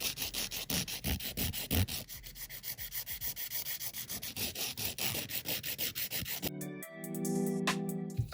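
Close, rhythmic filing strokes rasp against a polygel nail as it is reshaped and crisped, steady back-and-forth scraping that ends in a brief clatter and a low hum.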